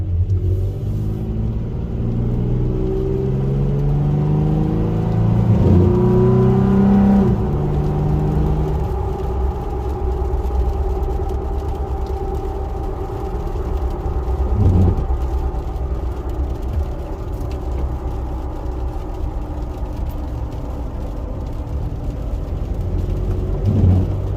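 A Toyota car drives on a road, a steady low engine and road rumble running throughout with some rising engine tones as it turns around, close and continuous with no talking.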